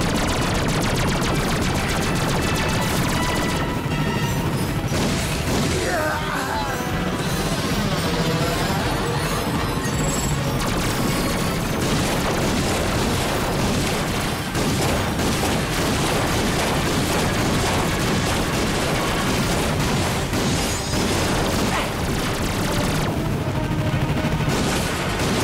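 Continuous gunfire and blasts from the Ratchet & Clank PS4 game, with rapid bursts and heavy booms running densely and loudly throughout, no talk over it.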